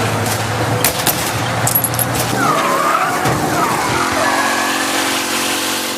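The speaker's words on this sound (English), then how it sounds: "All the sound effects for the cars and weapons have been re-recorded and now sound exactly like their respective sources." Car tires skid and squeal in the Mafia Definitive Edition video game, a loud, close screech that sweeps up and down over a roaring engine, with the motor settling into a steady hum at the end.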